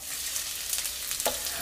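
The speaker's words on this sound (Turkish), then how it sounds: "Şöyle bir soğanı, sarımsağı yağın içinde kavur." Onion and garlic sizzle in hot oil in a pan, a steady close frying hiss with a couple of faint stirring clicks.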